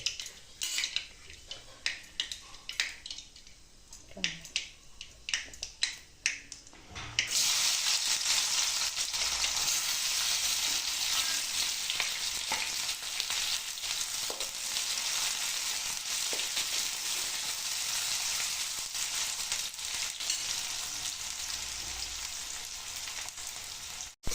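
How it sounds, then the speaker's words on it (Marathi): Cumin and mustard seeds hit hot oil for a potato dish, bursting into a loud, continuous close-up sizzle after several seconds of light utensil clinks and quiet kitchen handling. "तेल गरम पण झाले आता जिरं मोहरे घातले"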